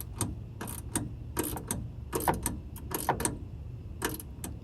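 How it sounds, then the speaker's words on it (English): A hand ratchet wrench tightens a power frunk bracket on a 2024 Tesla Model X, giving rapid close-up bursts of metallic clicking in repeated strokes with brief pauses between swings. "attach it to my wrench, and just go ahead and tighten this up"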